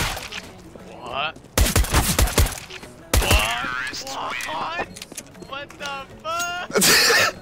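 Gunfire in Counter-Strike: Global Offensive, with sharp bursts of shots arriving in short clusters between stretches of excited talking and shouting from players, loud and close.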